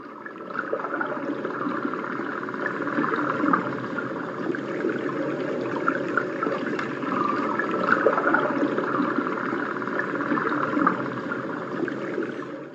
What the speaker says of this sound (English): let's try out the flowing creek.